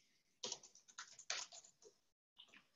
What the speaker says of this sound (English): Just typing that again.